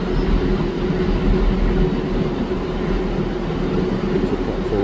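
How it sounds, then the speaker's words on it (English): A train rumbles steadily as it arrives at a station on the Norwich line, a continuous low roar with faint rail noise that holds at a constant level throughout. "Looks like another train is coming in now."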